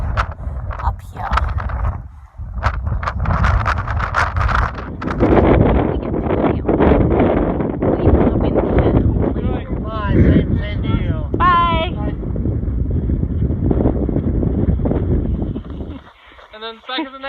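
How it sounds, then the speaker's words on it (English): Strong gusting wind buffets the microphone continuously on a snowy Pacific Crest Trail mountainside near Carson Pass, with a person talking over the roar. "Super, super windy up here."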